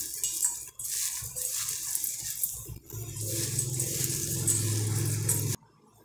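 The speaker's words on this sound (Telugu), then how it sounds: "నెయ్యి వేసి మంచిగా కలిపేసుకోవాలి." Sweet poha with ghee being stirred in a bowl for a Krishnashtami offering, a spoon scraping and clinking against the dish in steady continuous strokes, close by, then a brief stop and near silence at the end.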